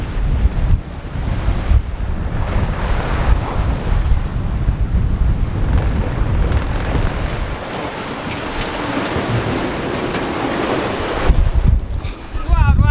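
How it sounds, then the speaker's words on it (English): Strong gusty wind buffeting the microphone and big quartering waves crashing around a sailboat near hills off Grenada, a loud continuous roar with surging gusts and splashes throughout. "It's really tough conditions for the self-steering. It's these big quartering waves that throw us around, and these bullets of wind that are coming down off the hills."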